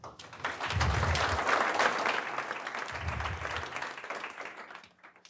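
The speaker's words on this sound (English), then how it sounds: "round of applause for Konrad" An audience at a tech meetup bursts into applause for a speaker, a dense wash of clapping that swells quickly, holds for several seconds with a few low thumps, then tapers off.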